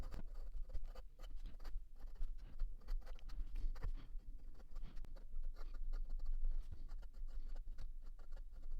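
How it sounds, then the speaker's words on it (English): A Magna Carta Mag 600 fountain pen with a 14K gold flex nib and ebonite feed writes quickly on paper, giving close, continuous scratchy strokes with quick rhythmic taps and pauses. "Let's do some more regular writing."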